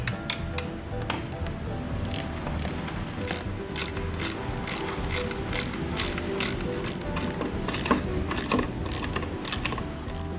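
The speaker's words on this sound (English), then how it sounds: "Now just to tighten all these 4 bolts that held the original radiator protector on." A ratchet tightens the radiator protector bolts on a KTM 350 EXC-F dirt bike, with steady rapid clicking close up and a few sharper metallic ticks over a constant low background rumble.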